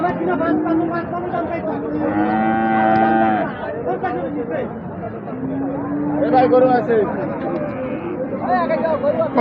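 Several bulls, including Friesian and Australian breeds, low in long, deep moos, one after another, at a rural cattle market, over a busy background of people chatting nearby.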